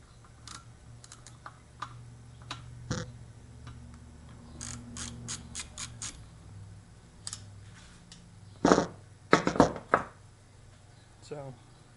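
Ratchet wrench works a reverse-threaded nut with a 22 millimeter on the back side during an LBZ turbo rebuild, giving scattered close clicks and a few sharp metallic rattling bursts while someone talks.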